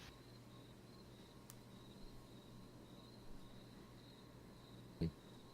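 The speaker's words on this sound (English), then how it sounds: "The crickets are so loud." Crickets chirp in a faint, steady, high-pitched trill that runs continuously in the background, with a brief bump near the end.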